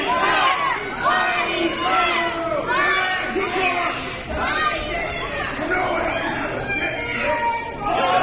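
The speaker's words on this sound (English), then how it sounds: "You know what the crowd wants, you can hear it." A wrestling show crowd at Forest City Rampage roars and chatters continuously, a dense wash of many voices with swelling cheers and shouts that stays loud from start to finish.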